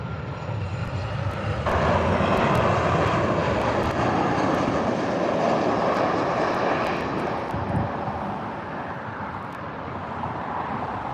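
A SunExpress airliner arriving from Antalya lands at Gatwick, its jet engines a loud, steady roar that swells and then slowly eases, with no voices over it.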